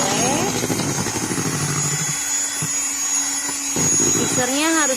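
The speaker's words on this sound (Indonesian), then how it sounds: "Mixernya harus digoyang-goyangkan supaya mengembang." An electric mixer whips homemade melon ice cream, a steady whirring motor drone that shifts in pitch as the mixer is moved around, with a person talking over it.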